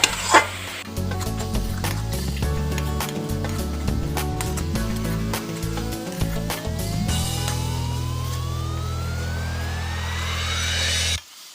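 A mixture of carrot, coconut and sugar dries out as it fries in a pan for carrot laddu, with soft sizzling, a run of scraping stirs and a steady hum beneath.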